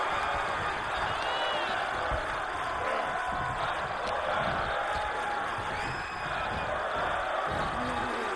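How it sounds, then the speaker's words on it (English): A crowd chanting in a wrestling arena in the video game WWE 2K23 forms a dense, moderately loud wash of voices that continues throughout, with commentary talk over it. "Look at the crowd chanting."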